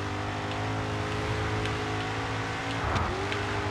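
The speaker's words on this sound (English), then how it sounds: "Some serious engine abnormalities going on right now." A damaged race car engine in GRID 2 drones loudly and steadily, its roughness running throughout, with one brief downward swoop near the end.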